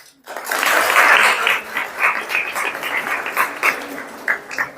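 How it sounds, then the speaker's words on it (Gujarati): A college audience breaks into dense, sustained applause that starts abruptly, swells quickly and then rolls on unevenly with scattered individual claps poking through before it thins toward the end. "તાળી પાડ દો પોતા માટે"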